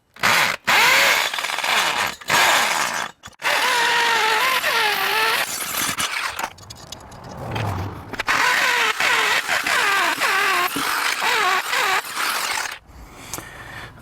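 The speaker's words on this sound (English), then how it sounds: "So we're going to start this other hole." A power drill whines up and down in repeated bursts as it bores a hole for stainless cable railing installation, with short pauses between runs, close and loud.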